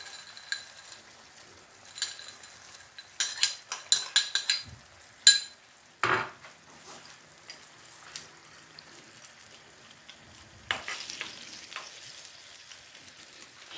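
Peas tipped into a pan of simmering tomato sauce, with soft sizzling and a few spoon clinks and scraping stirs in bursts, close and fairly quiet, no talking.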